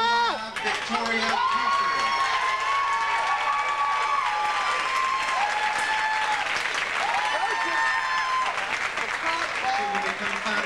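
Sustained audience applause with cheering fills the hall as finalists are announced at an awards ceremony, dense continuous clapping with voices calling out over it and faint announcer speech mixed in.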